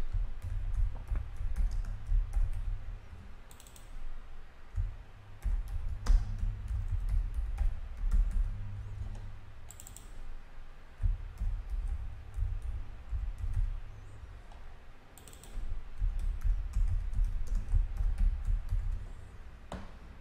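Someone types HTML code on a computer keyboard, with steady soft key clicks and taps running throughout over a low background hum and a few pauses.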